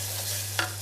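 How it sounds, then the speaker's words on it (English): Soy milk being stirred into a sauce in a pan off the heat, a short scraping swirl with a brief brighter clatter near the end over a steady low hum. "Take the pan off the heat and just work the milk into the sauce."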